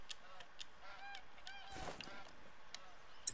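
Geese in the hunting video game theHunter: Call of the Wild honk in a series of repeated nasal calls, moderately loud and fairly close, with a brief burst of rushing noise partway through and no talking.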